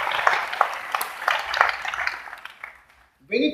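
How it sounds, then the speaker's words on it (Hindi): An audience at a direct selling business seminar applauds for its leaders, a burst of clapping that fades out over a few seconds before a voice begins speaking. "एक बार जोरदार तालियां होनी चाहिए आगे की रोज के लिए"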